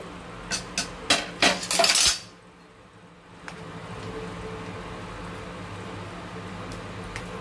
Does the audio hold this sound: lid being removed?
yes